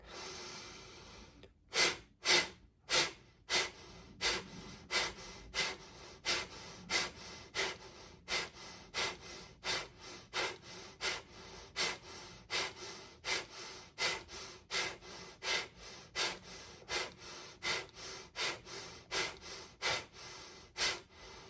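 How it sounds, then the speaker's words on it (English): Deep breath work during guided meditation: a long run of sharp, evenly paced breaths, roughly one or two each second, repeating steadily and close with no talking. "You can just consciously breathe in and out and focus on your body for the time being."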